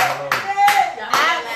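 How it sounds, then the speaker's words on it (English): A few sharp hand claps ring out in a lively, church-style rhythm on a radio show, mixed with voices and chatter close by. "That was like a church clap, like Kirk Franklin back in the day"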